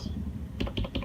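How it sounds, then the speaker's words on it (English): A short burst of quick keystrokes on a computer keyboard, close and clear, several taps in rapid succession. "has been me in the morning, just typing away"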